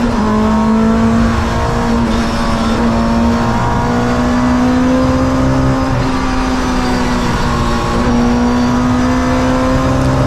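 A pack of touring race cars, including an MG ZR, drives past at Donington Park circuit, their engines droning loudly and steadily as they approach Redgate corner.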